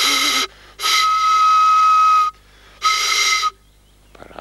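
A homemade grass pipe gives three shrill, breathy whistle blasts, the middle one longest, each sharp and loud close by with brief silences between.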